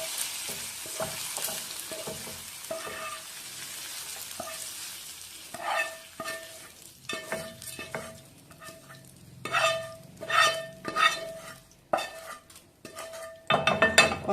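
A spoon scrapes and clinks against a pan as a cooked raw-potato mixture is scooped into a small bowl, with intermittent close-up scraping strokes and metallic taps that grow busier toward the end.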